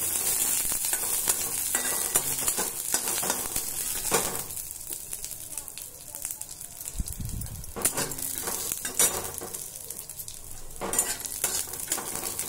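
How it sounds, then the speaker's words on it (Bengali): Peanuts fry in oil with a chili tempering, a steady close sizzle with frequent scraping stirs and metal utensil clinks, dipping briefly midway before rising again. "প্রথমে বাদামগুলোকে একটু ভেজে নেব অল্প করে"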